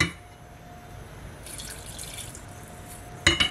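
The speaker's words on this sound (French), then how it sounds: "On rajoute le lait qui est chaud." Hot milk pours into a béchamel pan with a soft liquid rush and splash, followed by a brief louder clatter near the end.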